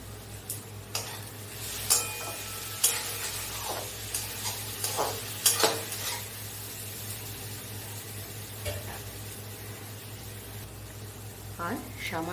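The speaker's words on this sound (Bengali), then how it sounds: "আমি এটাকে ভালোভাবে ভেজে নেব।" Spiced chicken burger mixture with salt, cumin and turmeric fries in a pan, a steady close sizzle broken by several sharp spatula scrapes and clinks against the pan.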